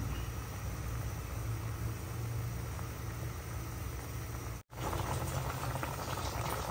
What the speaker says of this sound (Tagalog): lutuin lang po natin ang ating bangus at ang ating mga sibuyas at kamatis